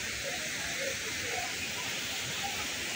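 A waterfall at Juinagar roars as steady, broad hiss with no let-up, heard up close with a faint voice beneath it.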